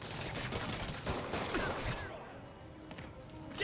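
A rapid fusillade of gunfire in a Spider-Man video game: dense crackling bursts that fade after about two seconds, with shouting voices underneath.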